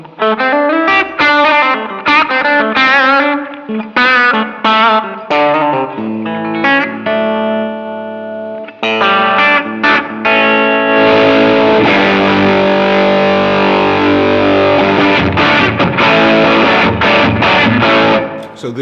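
Electric guitar through a Crazy Tube Circuits Heatseeker distortion pedal plays loud, close riffs: choppy chords and single notes first, then after a brief gap, heavily saturated sustained chords ringing out with thick gain.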